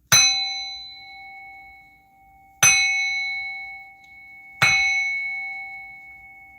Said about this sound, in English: I'm going to bang the bell to remove, cleanse all negative energies, entities, evil eyes sent to my home